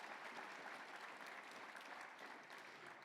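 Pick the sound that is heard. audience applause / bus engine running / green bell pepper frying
audience applause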